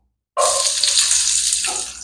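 Coarsely chopped onions tipped into hot oil left from frying kofta kebabs burst into a loud, sudden sizzle that holds steady, close up, then eases slightly toward the end.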